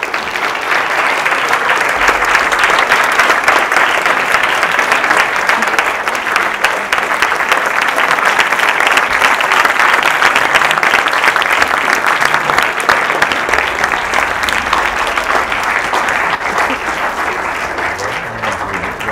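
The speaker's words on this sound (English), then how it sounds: "can you now give that massive round of applause?" Sustained audience applause welcoming Judy Murray OBE to a Q&A evening at Stonyhurst, a dense, steady clatter of many hands clapping close and loud throughout, with no voices over it.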